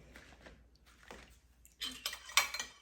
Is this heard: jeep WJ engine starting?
no